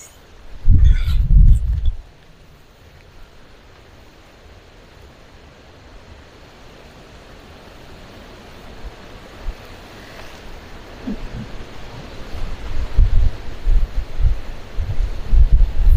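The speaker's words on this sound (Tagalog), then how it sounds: "Napakalakas ng hangin." Strong wind roars across the microphone on a farm, a heavy rumbling gust at the start, then a steadier rush that builds again toward the end.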